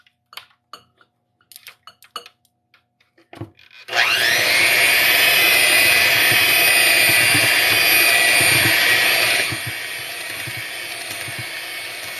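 Electric mixer whipping instant pudding powder into whipped cream: a few faint clinks, then a loud close motor whine starts abruptly and runs steadily, dropping to a lower, quieter speed near the end.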